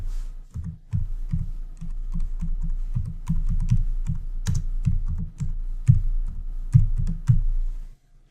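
Fast keystrokes on a computer keyboard while a label is typed into photo-editing software, a steady run of close, crisp clicks with brief pauses, no voices.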